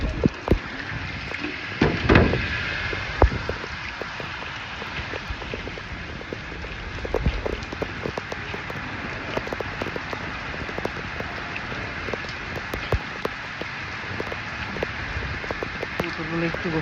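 Steady rain falling outdoors where pigeons are getting soaked, a continuous broadband patter with occasional louder drops and light wind gusts, moderately loud throughout with no voices.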